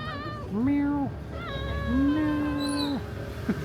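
A cat meows several times in a row, each call a drawn-out, wavering cry, fairly close and clear, with a busy outdoor street market in Uluwatu, Bali humming faintly underneath.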